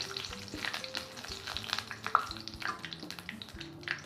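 Bay leaf and caramelised sugar fry in hot oil in a karai for mutton curry, giving a close, steady sizzle with stirring clinks and scrapes and no voices.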